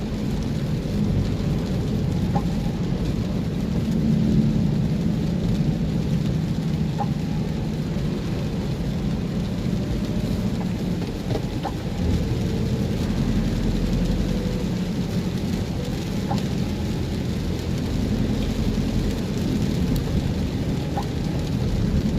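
Steady rain hisses continuously in Talisay, Batangas, with low rumbling thunder rolling underneath throughout.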